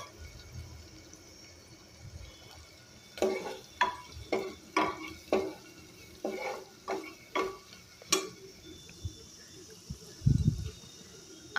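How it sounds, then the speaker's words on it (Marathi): A spoon stirs asafoetida and turmeric in hot oil in a pan for tikhat sandgyachi bhaji, tapping and scraping about a dozen times in a quick irregular rhythm over a soft sizzle, with a louder scrape near the end. "थोडं हिंग टाकूया। थोडीशी हळद टाकलेली आहे। आता थोडं परतून घ्यायचं आहे।"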